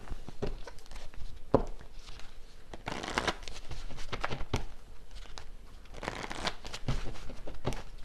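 A deck of tarot cards is shuffled and drawn from in close, quiet bursts of riffling and slapping, several separate rounds spread across about eight seconds with no talking.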